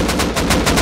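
Rapid automatic gunfire from the video game Rust crackles in a tight burst of about six evenly spaced, loud, close shots.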